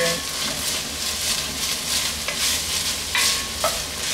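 Onions frying in a pan for pancit canton hiss with a steady sizzle, broken by repeated scraping stirs of a utensil against the pan.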